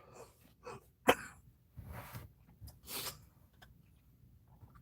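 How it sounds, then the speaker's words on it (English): A person coughs several times at close range, with one sharp loud burst followed by rougher, breathier coughs and throat-clearing sounds, alone without speech. "That's just too much coughing."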